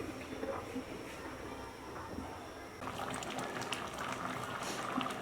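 Water bubbling at a rolling boil on a stove while pulao rice cooks, the liquid nearly reduced; a steady close bubbling wash that grows busier and louder partway through, with no talking.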